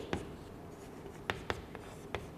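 A few short, sharp taps and strokes of chalk on a board as a teacher writes an example during a Hindi lesson, sitting over a steady hum of room noise.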